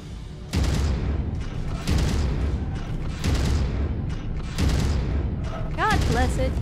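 Repeated heavy cannon bursts and explosions in Mechwarrior 5 combat against a tank, loud booming volleys arriving roughly every second and a half, with faint game tones near the end.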